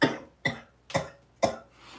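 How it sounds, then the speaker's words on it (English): Four harsh coughs in a row, evenly spaced and close up, each a sharp burst that quickly fades, with no talking. "I'll be coughing."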